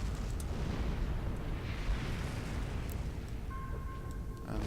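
Ships blowing up in Star Trek Online's space graveyard, a dense rumbling roar of explosions with scattered pops, continuous and fairly quiet, a faint electronic tone surfacing near the end.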